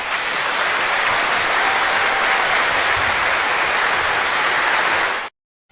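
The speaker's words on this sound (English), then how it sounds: "Let me make sure I give you a good clap" Dense applause, a steady wash of many hands clapping at even loudness for about five seconds, then cut off abruptly into silence.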